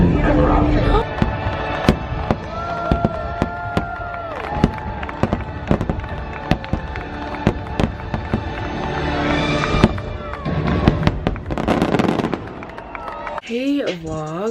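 Fireworks burst over Magic Kingdom in Orlando, a dense run of sharp pops and booms over continuous music and crowd noise, loud and sustained.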